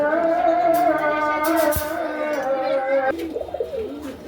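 Pigeons cooing up close, low throaty calls repeating loudly, with rustling in the background.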